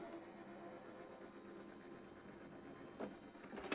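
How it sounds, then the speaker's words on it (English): A die cutting machine rolling paper through, a steady, low mechanical whir and hum that stays even throughout, ending in a couple of faint clunks. "So we'll just send that through our die cutting machine like so."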